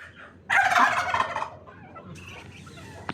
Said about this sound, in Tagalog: Yan walang kabusugan itong mga bibi.